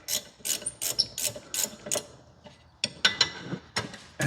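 Gear wrench ratcheting loosened bolts the rest of the way off a vehicle, giving rapid, close metallic clicking in short quick strokes, pausing briefly mid-way before resuming, with no voices.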